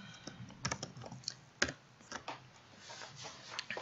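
Python code is typed on a computer keyboard: quiet, close, irregular clicks and taps in short bursts, with one sharper key strike partway through and no talking.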